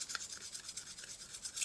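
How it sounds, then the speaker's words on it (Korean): Fine 400-grit sandpaper rubbed over the body of a handmade fishing float, a soft steady rasp of quick back-and-forth strokes, close but very faint, with no voices. "그래서 이렇게 사포질을 하신 다음에"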